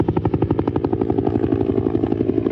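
Military helicopter at a joint-forces exercise at a training base, with its rotor thumping in a fast, steady beat over a deep engine drone, close and loud, with no voices.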